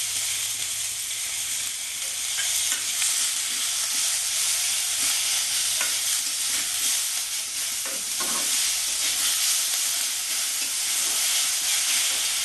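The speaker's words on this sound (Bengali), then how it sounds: "এবার আমি পেঁয়াজগুলো দিয়ে দেবো। এবার আমি আদা রসুনটাও দিয়ে দেবো।" Onion, ginger and garlic fry in a pan for a low-oil chicken dish, giving a steady close sizzle and hiss with occasional stirring scrapes. No voice is heard over it.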